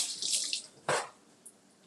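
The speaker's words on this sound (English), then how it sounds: "I'll just rinse it off." Boiled eggs rinsed under a running kitchen tap, a brief burst of splashing water close by, preceded by a softer hiss of flow and followed by a faint drip.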